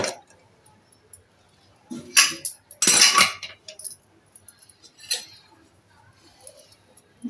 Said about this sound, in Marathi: आपण झाकण काढून बघूया.